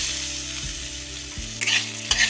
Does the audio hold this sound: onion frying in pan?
yes